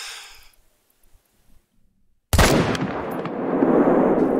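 A single sharp rifle shot at a mountain goat in theHunter: Call of the Wild, ringing out loud and close after near silence, with a long reverberant tail rolling away across the mountain terrain.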